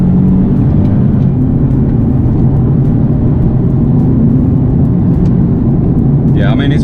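Nissan 370Z fitted with a Cobra sports exhaust accelerates hard on a damp road, a loud, sustained engine roar with rising pitch heard from inside the cabin.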